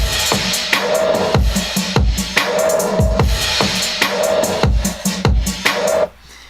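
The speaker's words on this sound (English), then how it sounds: "The drums sound like this." A steady electronic drum loop thumps with punchy kicks, crisp claps and ticking hi-hats, loud and upfront, cutting off at the end.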